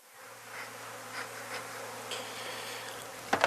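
Honey bees buzz at a hive entrance in a steady, dense drone, with individual bees swelling louder as they pass close, and a couple of sharp knocks near the end.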